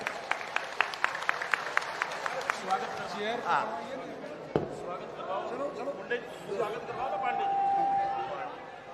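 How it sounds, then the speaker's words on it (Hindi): Applause from a political rally crowd in Haryana welcoming a speaker, a dense patter of clapping swelling and fading, with crowd chatter and an amplified voice over a loudspeaker. "आप सभी से निवेदन है कि जोरदार तालियों से उनका स्वागत किया जाए।"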